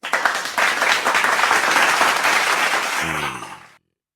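Dense applause from a gathered audience after a religious teacher (ustaz) is thanked, sustained and loud for about three and a half seconds before stopping abruptly, with a brief low voice near the end.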